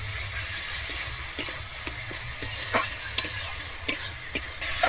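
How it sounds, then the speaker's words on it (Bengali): Chopped tomato sautéed with spice paste for a Bengali koi fish curry, giving a steady frying sizzle broken by intermittent clicks and scrapes of a stirring spoon. "আমি টমাটোটা দিয়ে আবারও খুব ভালোভাবে এখানে কষিয়ে নেবো"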